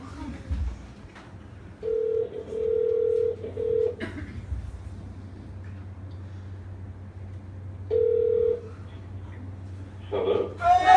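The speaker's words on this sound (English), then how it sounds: "It's ringing" A phone ringback tone repeats twice over faint background hum, with brief voices murmuring between rings.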